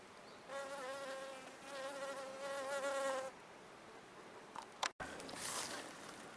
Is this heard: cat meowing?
no